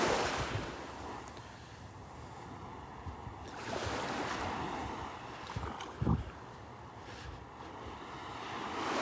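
Tiny waves lap gently onto Vanderbilt Beach on a calm morning, a soft steady wash of surf under light wind rumble, with one slightly louder ripple breaking partway through and no one speaking.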